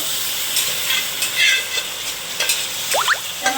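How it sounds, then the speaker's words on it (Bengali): Mutton being stirred into fried potatoes in a pan, with a steady close sizzle and hiss of frying broken by repeated scraping strokes of a spoon. "এবারে আমি মটনটা ভাজা আলুতে ঢেলে দেবো দিয়ে একটু ভালো করে কষে নেবো"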